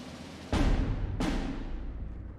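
Big rockets firing in the WW2 real-time strategy game Steel Division 2: two loud broadband whooshing launches about half a second apart, each a sharp onset with a long roaring decay.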